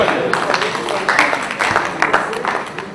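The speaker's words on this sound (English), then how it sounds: "And the rest of you keep clapping for them" An audience claps along to music at a keynote talk, a steady rhythmic patter of many hands holding a regular beat, fairly loud and close, with a voice speaking over it.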